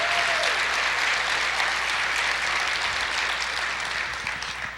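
Church congregation applauding in worship, a dense, continuous burst of clapping that starts full and eases slightly toward the end, with no speech over it.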